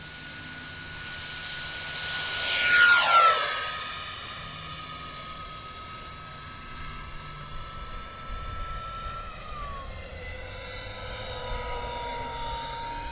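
E-Flite F-14 Tomcat twin 40mm electric ducted fan model jet flying past outdoors, a loud rising whine that peaks near the start and then settles into a steady fainter high-pitched hum as it moves away.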